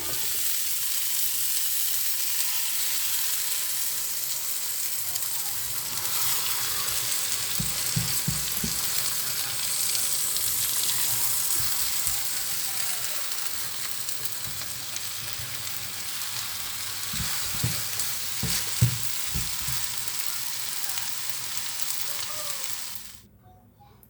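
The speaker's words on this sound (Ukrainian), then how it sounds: "Так, брокколі вже в мене обсмажились, я посолила її." Broccoli frying in a pan at home, a steady close sizzle running for over twenty seconds with occasional soft stirring scrapes, cutting off abruptly at the end.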